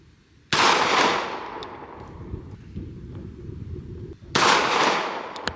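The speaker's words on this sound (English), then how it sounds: "How many shots was that?" Two sharp pistol gunshots fired at a target outdoors, one near the start and another about four seconds later, each loud with a long decaying echo.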